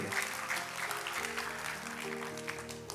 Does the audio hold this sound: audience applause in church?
yes